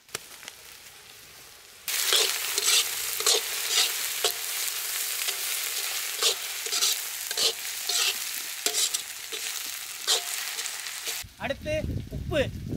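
Ginger garlic paste hits a hot pan in a village kitchen while egg puff filling is cooked. After a quiet moment it bursts into loud, close sizzling, with stirring scrapes running through it and a shift in the noise near the end.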